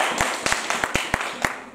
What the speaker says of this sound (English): Clap your hands and celebrate Jesus.